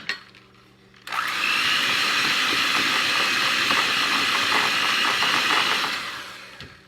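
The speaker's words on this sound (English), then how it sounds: "I'm going to put a little bit in, and then I'm going to turn the mixer on" An electric mixer switches on after a quiet moment and whirs loudly and steadily while beating edible sugar funfetti cookie dough, its motor noise close and continuous before easing slightly near the end.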